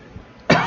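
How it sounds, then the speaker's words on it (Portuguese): A single sharp, loud cough from a man close to the microphone, bursting out after a brief quiet moment. "Começamos com uma tossida aqui, né?"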